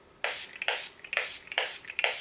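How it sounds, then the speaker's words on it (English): Made by Mitchell Liquid Lock setting spray fires in five quick, close misting bursts with short pauses between them, each a crisp airy hiss, no talking. "I'm going to go in with the Made by Mitchell setting spray. It's the Liquid Lock setting spray."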